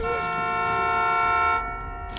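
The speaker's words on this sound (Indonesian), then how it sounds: "Tidak sengaja, Jomin menekan klakson." A car horn blares in one long, loud continuous honk, close by, then cuts off abruptly, leaving low rumbling behind.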